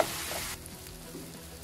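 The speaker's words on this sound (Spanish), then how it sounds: "Y aquí lo vamos a estar moviendo hasta que el tomate esté disuelto un poco" Tomato frying in a pan, a close, steady sizzle with soft scraping as it is stirred, louder at first and then settling to a lower crackle.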